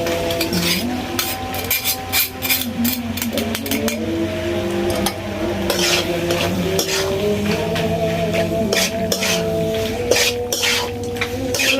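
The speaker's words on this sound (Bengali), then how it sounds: "ম্যাকারনিগুলো দিয়ে তারপর হচ্ছে ম্যাকারনিগুলো একটু ভাজতে হবে, কিছুক্ষণ ভাজতে হবে।" Boiled macaroni fries in a pan over a clay stove, with a spatula scraping and clinking against the metal in quick bursts over a low sizzle and a steady background hum; no one speaks.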